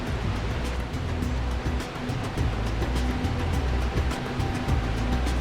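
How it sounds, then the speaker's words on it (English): The Urubamba River rushes through a deep gorge below the cloud forest, a steady, dense roar of churning water with a low rumble throughout and no speech. "In a gorge below, the Urubamba River snarls angrily."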